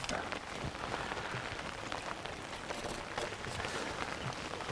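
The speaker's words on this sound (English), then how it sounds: "Hopefully this rain stops." Steady rain falls at an outdoor fishery during a live fishing match, a dense, continuous patter of drops hitting the surfaces close by, with no voices.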